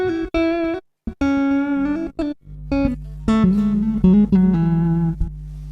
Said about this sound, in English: So that's my super reverb preset.